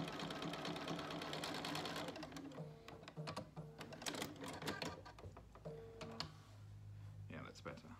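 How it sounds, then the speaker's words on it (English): A domestic sewing machine stitches over bulky quilt blocks, a fast mechanical rattling hum in bursts that stop and restart, close up, with someone talking between and over the runs. "just sew over it once more,"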